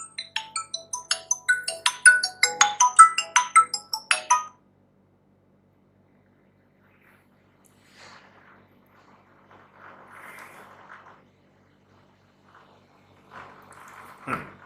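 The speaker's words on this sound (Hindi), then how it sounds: "फोन आ गया बीच में" A phone ringtone for an incoming call plays a quick, bright melodic chime pattern, loud and close, repeating for about four seconds before cutting off, followed by a quiet room with a few faint, scattered noises.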